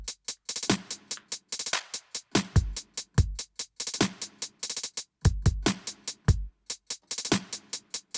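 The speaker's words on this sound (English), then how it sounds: "So with the kick drum, the drums sound like this." A programmed drum beat with booming kick drum from a remix, with sharp, crisp hi-hat and snare hits in a fast repeating pattern over deep kicks, loud and dry with no voices.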